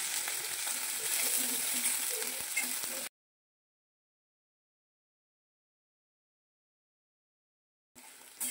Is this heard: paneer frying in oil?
yes